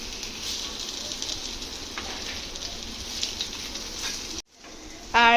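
Onion and capsicum pakoras frying in hot oil, giving a steady, dense sizzle that runs throughout, briefly cutting out near the end before returning louder.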